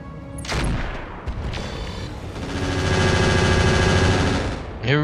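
Sustained automatic gunfire and booming shots from mechs in the BattleTech RogueTech game, loud and continuous with dense overlapping bursts, ending in a sharp final blast.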